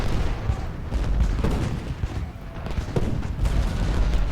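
Musket volleys and artillery fire in the Civil War strategy game Ultimate General Gettysburg rumble and crackle continuously, a dense battlefield din of overlapping shots and distant booms.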